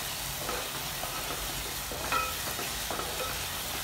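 Vermicelli with minced meat frying in a pan gives a steady, soft sizzle, with a few brief stirring scrapes over a constant hiss and no voices.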